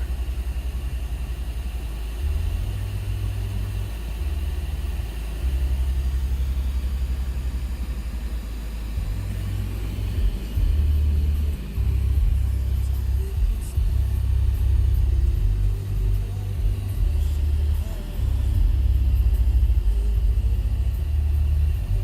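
Low engine rumble of cars stuck in heavy city traffic on a Friday, a steady close drone with slight swells and idling tones throughout, no talk.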